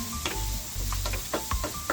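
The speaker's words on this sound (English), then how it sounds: "now I'm gonna add my garlic." Garlic sizzling in a pan while lasagna is cooked, a steady close frying hiss broken by clinks and scrapes of stirring.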